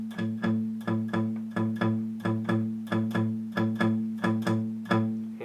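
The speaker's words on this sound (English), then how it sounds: "place your palm on the bridge like this and touch the string slightly" Palm-muted power chord on guitar, struck in a steady chugging rhythm of short, clipped, evenly spaced hits that decay quickly, played alone.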